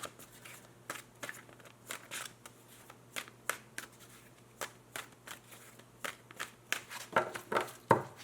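Cards riffled and shuffled in repeated quick bursts, crisp flapping and clicking close by, with a hum underneath and no talking.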